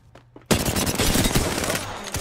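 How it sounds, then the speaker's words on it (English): Rapid automatic gunfire in the video game Apex Legends, a couple of faint taps followed by a loud, sustained burst of close shots with dense crackling impacts. "I'm taking shots."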